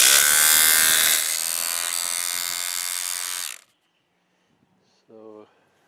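A DeWalt cordless orbital sander whirs loudly at close range for a few seconds, its pitch dropping slightly before it cuts out abruptly, followed by a brief faint clunk and a short buzzing tone.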